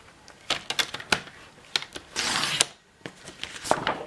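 Paper trimmer cutting designer paper for a Christmas card: a run of sharp, close clicks and taps as the sheet is positioned, then one longer rasping slide of the blade, followed by more light clicks.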